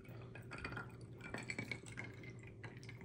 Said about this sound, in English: So let's pour it up and see.